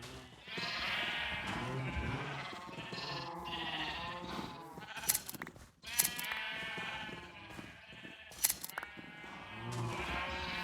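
Sheep in a village-building video game bleat in repeated wavering calls, several overlapping and close, with a few sharp clicks between them and no talking.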